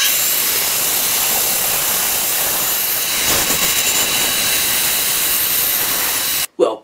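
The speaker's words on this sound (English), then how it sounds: "It's bandsaw time." A bandsaw slices through a solid HDPE plastic block, producing a loud, steady hissing roar that holds evenly for several seconds before cutting off sharply, followed by a brief clatter.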